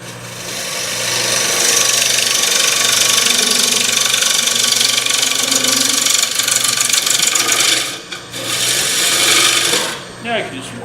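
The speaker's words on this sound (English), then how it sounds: "Bowl gouge." A wood lathe spins a platter as a bowl gouge undercuts the underside of its lip, a loud continuous scraping hiss over the motor's low hum that briefly drops out twice near the end.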